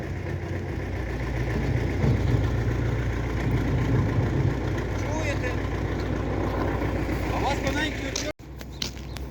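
A tractor engine idles in a village setting, a steady low rumble running throughout with people talking over it, briefly cut off near the end before resuming.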